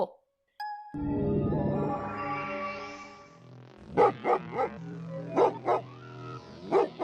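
Kalo, a cartoon dog, barks in a series of sharp, separate woofs. The barks follow a rising, sweeping musical tone and come through fairly loud against a quiet background.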